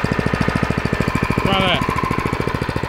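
A Predator 212 engine on a go-kart chugs loudly and steadily with a rapid, regular beat, close by, while a voice speaks briefly over it.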